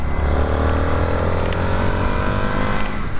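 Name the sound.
Indian FTR 1200 Carbon R motorcycle engine running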